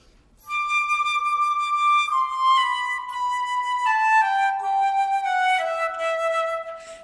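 Solo flute playing an orchestral excerpt slowly with a centered tone, a descending line of long sustained notes, clear and close, alone without talk.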